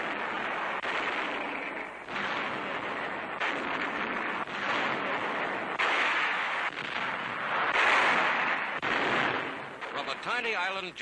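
Artillery bombardment on a tiny island just west of Kwajalein in 1944, guns firing at almost point-blank range; a dense, continuous barrage of heavy booms and rumbling blasts, loud and close, layered with rough newsreel noise.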